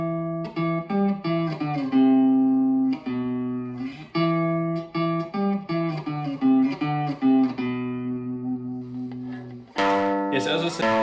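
An electric guitar picks out a short beginner riff of single notes on one string, moving up and down with some held tones, played alone.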